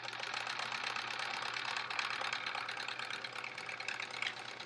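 A sewing machine stitches quilt pieces in a continuous fast, even whirring run close to the microphone, without any speech.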